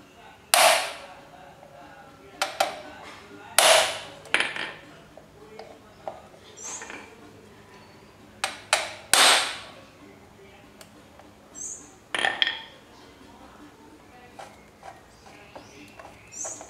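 A hammer strikes a tool to loosen a screw on a Yamaha XV 250 Virago motorcycle, giving a series of sharp metallic hits spaced irregularly, some in quick pairs, with quiet handling noise in between.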